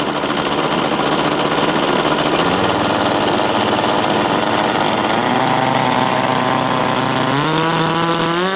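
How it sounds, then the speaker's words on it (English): A small .049 Wankel rotary engine on a Seagull FunFly 3D model plane screams loudly and continuously at close range, its high buzzing pitch stepping upward as it revs near the end, with no voices. "is that a WANKEL engine in the front?"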